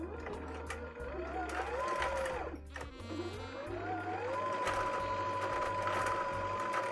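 A home sewing machine winds a bobbin with fine thread from a 1,000-metre spool, its low motor hum starting and stopping in short runs, close by, while a voice talks over it.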